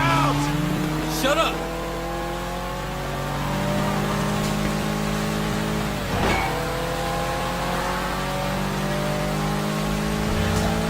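A car in the video game Sleeping Dogs drives with a sustained engine hum that shifts in pitch as it accelerates and slows, with a short scrape-like swell midway.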